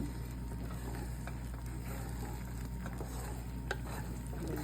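Soft scrambled eggs cook in a pan on the stove, a low steady sizzle with occasional light scraping and clinks of the utensil, quiet and unbroken by talk.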